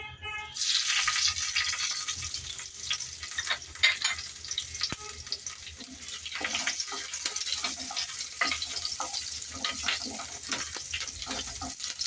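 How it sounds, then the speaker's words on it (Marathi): Cumin seeds and green chili sizzle in hot ghee, a steady close hiss with fine crackling and occasional stirring scrapes, continuing alone for several seconds. "तूप छान गरम झालंय त्याच्यामध्ये आपण घालूया जिरे आणि मिरची"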